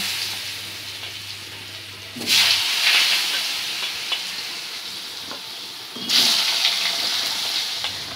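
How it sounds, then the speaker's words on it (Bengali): Potatoes frying in oil in the same oil used for fish, hissing and sizzling loudly in two surges as they drop into the pan, then settling into a steady crackle. "এবার আমি ওই একই তেলে আলুগুলোকেও ভেজে নেব।"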